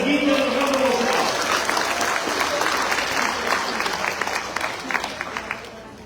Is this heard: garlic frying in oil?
no